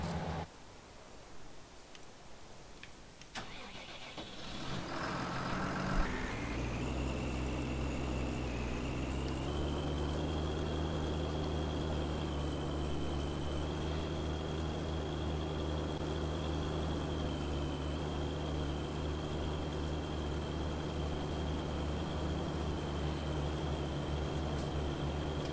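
A farm vehicle in Farming Simulator 19 starts its engine a few seconds in and settles into a steady, droning run that holds on, with no talk over it.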